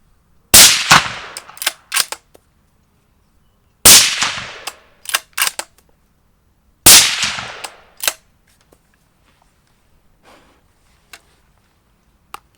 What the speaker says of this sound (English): 3 rounds, just see how the gun cycles.